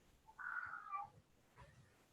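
A cat meows in the background of a remote community video call, a faint drawn-out call followed by a softer short one, with no talk over it.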